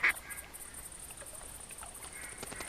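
Ducks quacking in the hunting game theHunter, a loud call at the start and then fainter scattered quacks and honks at a distance over a steady outdoor ambience.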